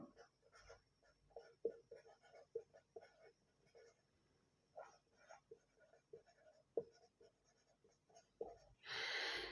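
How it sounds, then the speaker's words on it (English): Handwriting with a pen or marker, a faint series of short scratching strokes in uneven rhythm, quiet and close, with a brief burst of noise at the end. "Let's write it down."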